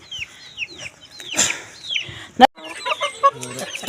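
Chickens cluck and chirp close by in short repeated bursts, with a brief knock partway through and light background noise.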